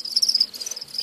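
Crickets in a breeding enclosure chirp in a fast continuous trill, close and fairly loud, with no other sounds.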